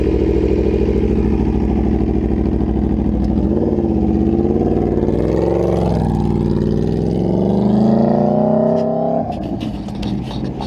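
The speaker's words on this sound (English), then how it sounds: "Alex teaching Jazz how to ride the bike" A superbike motorcycle rides on a race track, its engine a loud, close drone that rises and falls in pitch as it revs and pulls away, then shifts tone near the end.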